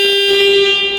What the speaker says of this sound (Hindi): और ये सुनिए हॉर्न इसका,